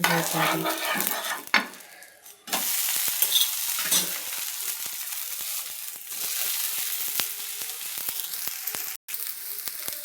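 A green gram dosa cooks in a pan over a low flame with a steady, bright sizzle throughout, broken by a few sharp scraping clicks of a spatula against the pan.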